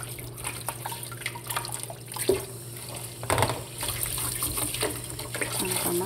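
Red tomatoes are washed under a running tap, a steady trickle of water broken by soft splashes and handling noises, close and fairly quiet.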